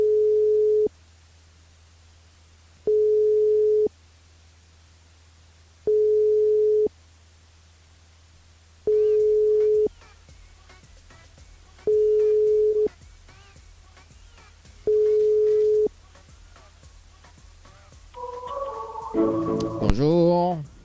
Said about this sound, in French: On appelle Sabine, c'est parti